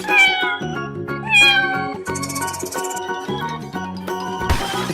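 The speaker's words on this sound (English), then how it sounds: "cat," A cat meows twice in quick, high, close-up calls, followed by playful cartoon music with twinkling chimes and a final percussive hit.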